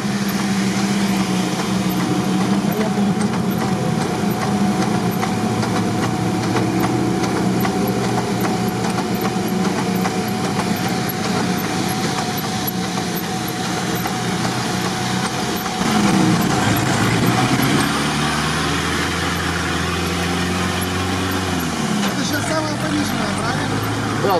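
An off-road vehicle grinds along a wet tank road in fourth gear with low range engaged, a steady loud engine drone and rumble under continuous talk.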